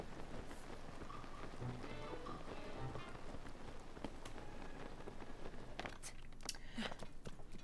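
Steady rain falling in Zelda: Tears of the Kingdom, a continuous dense patter filling the whole stretch, with a few sharper drip-like ticks and splashes rising near the end.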